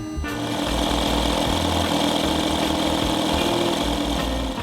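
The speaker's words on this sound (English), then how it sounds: "once the compressor kicks in, it will sound something like this." Aquaglide 12V turbo high-pressure pump with its compressor engaged, a loud, steady, rough motor drone with a low pulsing throb throughout, close up and without any voices.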